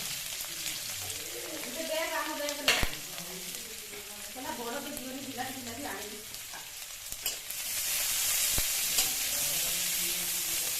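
Cumin, green chili and onion frying in hot oil for spicy Maggi noodles, a steady sizzle with stirring scrapes throughout, a sharp clink near the start and the hiss growing louder and brighter toward the end; no talk.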